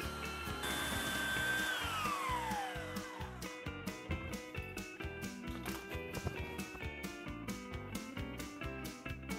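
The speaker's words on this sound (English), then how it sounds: "Now I'll use my belt sander with a 36 course belt and carefully sand down the high spots." A belt sander fitted with a coarse 36-grit belt grinds down high spots on a wooden surface: a loud, close motor whine that drops in pitch as it loads up, then a rapid, steady rhythmic pulsing.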